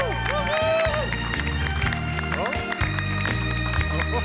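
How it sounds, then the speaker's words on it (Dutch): A TV studio audience gives sustained applause and cheering, with music playing loudly over the clapping throughout. "Geef er een heel groot applaus."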